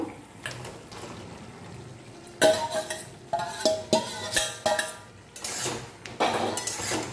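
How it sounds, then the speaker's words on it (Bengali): Elephant foot yam pieces tipped into a pan of lightly fried mustard and stirred, giving a sudden burst of clattering and scraping that continues in uneven bursts of utensil-on-pan clinks, close and fairly loud. "এবারে হয়ে গেছে, এর মধ্যে আমি ওলগুলো দিয়ে দেব"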